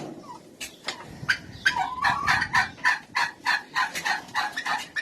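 Flock of turkeys heading outdoors into fresh air, giving repeated close, busy gobbling and clucking calls in overlapping bursts, loud and steady throughout.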